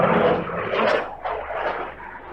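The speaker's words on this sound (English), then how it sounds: "we heard what seemed to be a Ukrainian jet taking off" A Ukrainian fighter jet roars while taking off, a loud broadband rush that swells, dips briefly and rises again, heard nearby over about two seconds.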